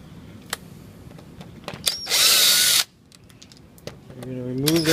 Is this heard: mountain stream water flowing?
no